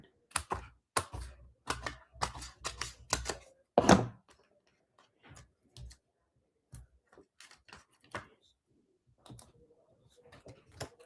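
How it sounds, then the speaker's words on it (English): Scissors snip card stock apart at a paper-crafting table, a quick run of crisp close cuts at first, then sparser scattered snips and light handling noises in a quiet room. "Let me cut these apart."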